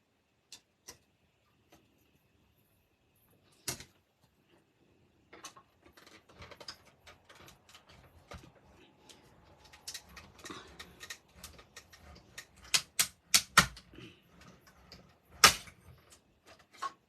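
A die cutting machine cuts a lantern-shaped die through brushed metallic foil: sparse ticks at first, then a busier run of clicking and clacking that builds into several sharp, loud snaps near the end.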